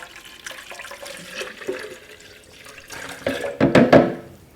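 Liquid is poured into a blender already holding other ingredients for vegan chocolate hazelnut milk, a gurgling, splashing pour that builds and grows loudest near the end, close by with no speech.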